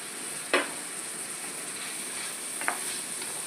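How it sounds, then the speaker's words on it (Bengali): Beans, potato and Kashmiri chili fry in a pan with a steady, soft sizzle, broken by two brief clinks of stirring. "এটাও ভাজা হোক হালকা করে, এটা একটু টাইম লাগবে ভাজতে"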